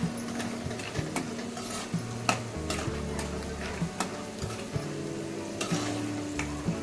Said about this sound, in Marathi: शेंगदाणे तळल्या गेले आता